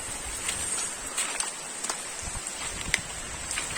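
Steady rain patters all around in a dense, even hiss in the Arunachal hills, with a few sharper drops and taps standing out now and then.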